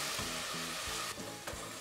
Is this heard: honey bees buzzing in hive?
no